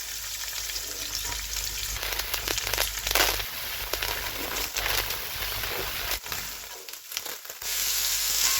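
Capsicum, carrot and other vegetables sizzle steadily in a pan while being stirred and tossed with salt and pepper, producing continuous close frying hiss with scraping stirs throughout.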